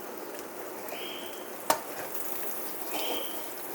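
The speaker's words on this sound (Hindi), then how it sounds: "अब देखिए मसाला हमारा भून रहा है तो मैं इसमें डाल दूँगी लहसुन अदरक।" Masala fries in a pan as garlic and ginger are added for an aloo baingan curry, a soft sizzle with quiet stirring scrapes and one sharp tap of a utensil.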